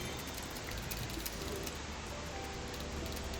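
A pigeon coos softly and repeatedly against a steady hiss of background noise, with no voices.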